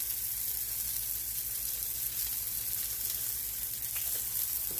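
Onions cooking on a grill with mushroom seasoning give off a steady, even sizzle that runs unbroken throughout, close and moderately loud, with a faint low hum beneath.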